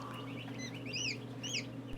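Pastured chickens clucking in an open field, a scattering of soft warbling clucks and calls from a flock at moderate distance over a steady low hum.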